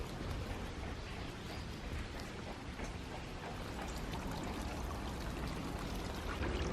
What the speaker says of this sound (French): On se rince une main, on fait gaffe de pas s'en foutre partout sur le pantalon.